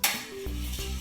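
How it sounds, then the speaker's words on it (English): Metal scraping and sliding against metal on a homemade camera slider, a close, bright rasping run with a couple of harsher grinding surges, heard alone. "metal with metal will sound like this"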